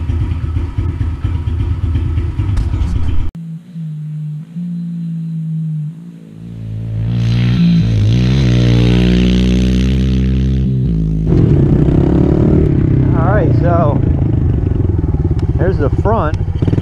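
A Yamaha TTR 110 dirt bike fitted with upgraded front forks is ridden, its small engine rising in pitch as it revs and pulls away, loud and close, with talk before and after.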